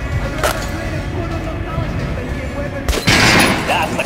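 Gunfire from the video game Metro Last Light Redux in a shooting tutorial against an armored enemy. Sharp shots stand out over a constant rumble of game ambience, with a final heavier burst near the end while a voice speaks.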